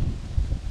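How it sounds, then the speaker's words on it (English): Low, steady wind rumble buffeting the microphone, with a faint rustle on top and no one speaking. "really windy, so to make it more difficult to film the video"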